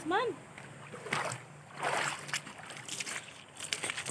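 Laundry being washed by hand in a river gives irregular splashes and sloshing water at close range, with voices talking alongside.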